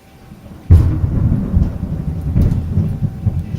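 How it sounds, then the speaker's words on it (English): A sudden loud thunderclap cracks close by during a cold-weather February thunderstorm, then rumbles on over steady heavy rain, with a second boom rolling in shortly after. "complete with frequent lightning, thunder, and heavy rain, as you may hear inside there"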